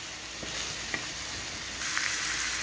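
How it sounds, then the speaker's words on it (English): Two cans' worth of corned beef hash fry in a pan on a stovetop, a steady close sizzle with a few faint clicks, growing louder and brighter near the end. "On the stovetop, I'm also cooking up a couple of cans of corned beef"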